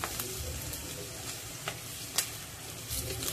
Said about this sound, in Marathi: तर आता हे सुद्धा खमंग परतून घेऊया.